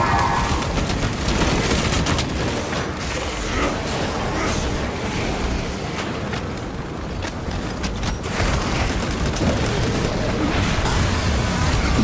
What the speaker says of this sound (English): Launching frag grenade.